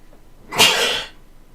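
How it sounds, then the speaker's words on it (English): One sharp, close human sneeze bursts out after a brief quiet and fades quickly, heard alone. "Give me a sec, I have to sneeze."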